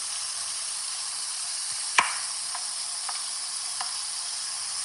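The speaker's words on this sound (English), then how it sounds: "The veggies I'm gonna saute that in the high heat." Vegetables sauté over high heat with a steady, bright hiss of sizzling oil, broken by a few light clicks and taps of stirring, close up and with no talk.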